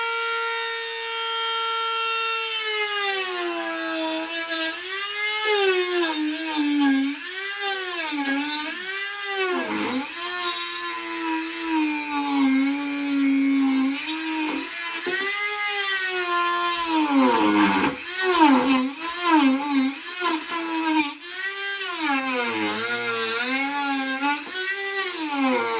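A rotary tool carves relief into the back of half-inch plywood, its loud whining pitch rising and dipping continuously as the bit bites and eases through the wood, with no talk over it.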